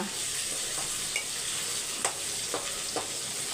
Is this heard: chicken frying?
yes